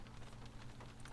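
Steady rain falling outdoors on an autumn day in Waterbury, Vermont, a faint, even hiss of drops with no breaks or voices.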